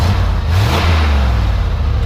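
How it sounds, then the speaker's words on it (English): A 1993 GMC Yukon engine revs up in the cold outdoors, a loud, close, continuous rumble with the pitch rising slightly as the throttle opens, then holding steady for the whole stretch. "Go ahead and rev it up a little bit."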